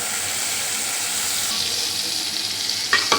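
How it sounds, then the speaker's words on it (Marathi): Brinjal (eggplant) pieces frying in a pan give a steady, close hiss and sizzle throughout, with a few sharper clatters near the end and no talking. "आता मी ही वांगी जरा फ्राय केली आहे।"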